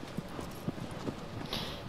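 A horse gallops in the video game Shadow of the Colossus, its hoofbeats coming as a faint, steady series of soft clip-clop thuds beneath a low background bed.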